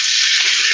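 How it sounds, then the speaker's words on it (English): A quarter cup of water hits a hot pan of frying dumplings and sets off a loud, steady, bright hiss that holds at full strength throughout. "So you add your quarter cup of water here. And watch out, it'll sizzle."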